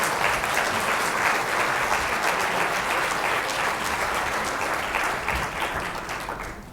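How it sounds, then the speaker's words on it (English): Sustained applause from an audience at a city council election forum, steady and dense throughout, tapering off slightly near the end. "let's give a round of applause to our District 2 candidates"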